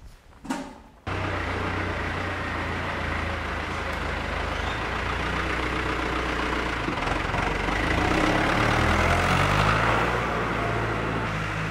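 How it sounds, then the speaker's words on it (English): A heavy diesel tractor engine rumbles steadily nearby after a brief quieter start, its droning growing slightly louder toward the end. "Driving the tractor"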